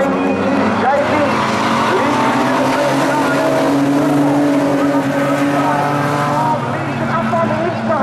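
A loud, continuous high-revving roar of racing motorcycles, including a BMW, sweeping past at speed in a race heat, engine whine shifting in pitch, with a commentator talking over it.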